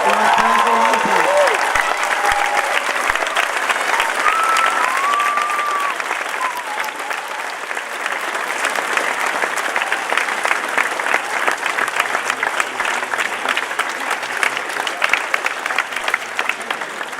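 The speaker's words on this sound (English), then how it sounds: "If you could give a big round of applause for our FASNY authors." Audience applause at a 2017 school graduation ceremony: a dense, sustained round of clapping from a large crowd that keeps going at a steady level, with a few voices audible near the start.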